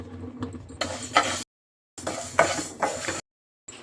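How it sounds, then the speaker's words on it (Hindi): Fenugreek seeds are dry-roasted in a pan for a mixed vegetable pickle, giving short bursts of scraping and rattling from stirring, separated by two complete silences. "यहाँ पे मैं मेथी भूनने जा रही हूँ"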